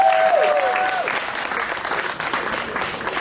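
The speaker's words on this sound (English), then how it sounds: "can you give yourselves a round of applause" A crowd claps steadily throughout, a dense, sustained round of applause with a brief whistle near the start.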